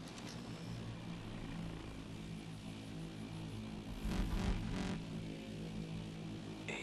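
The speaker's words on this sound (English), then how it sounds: "Drone, don't move." A hovering drone in Call of Duty Advanced Warfare drones overhead as a low, steady mechanical hum with tonal whine, swelling briefly louder midway before settling back, with no talk.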